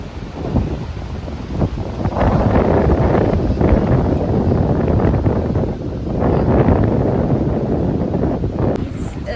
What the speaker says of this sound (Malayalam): പക്ഷേ നല്ല കാറ്റുണ്ട് കേട്ടോ.